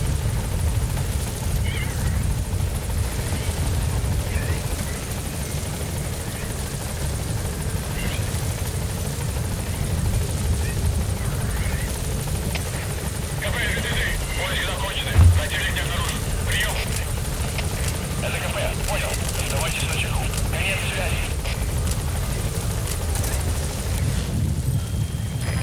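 The Pequod helicopter coming in to land in the Metal Gear Solid V video game, a steady low rotor drone and whir that holds throughout, with radio-style voices speaking over it at intervals.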